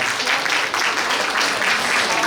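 An audience at a youth forum in Suncheon applauds continuously, a dense, even clapping that fills the room for a couple of seconds.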